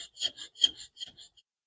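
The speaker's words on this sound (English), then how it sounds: "Set that piece back in the vise and make another cut." A piece clamped in a vise is being cut during a fiberglass RC 1898 supply steamer model build. About six short rasping strokes come in quick succession, faint and close, then stop, with no talking.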